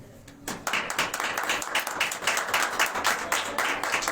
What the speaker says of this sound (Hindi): आप सबकी तालियों में state director Punjab pastor Imran भट्टी।